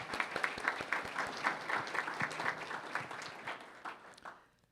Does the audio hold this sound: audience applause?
yes